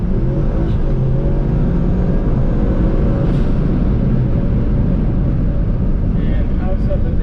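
Car engine and exhaust fitted with KillaBoost manifolds cruising on a highway, a loud, steady droning rumble with constant road roar throughout.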